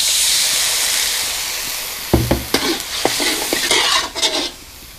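Water is poured into Thai curry paste frying in a hot pan for spicy stir-fried eel, giving a sudden loud sizzle that crackles and hisses under stirring, then fades.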